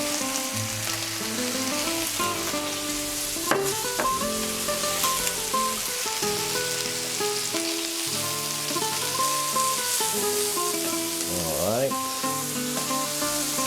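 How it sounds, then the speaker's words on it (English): Lamb, onion and garlic fry for paella in a constant loud sizzle with occasional stirring, all under background music. "It's gonna take a couple of minutes to brown that onion."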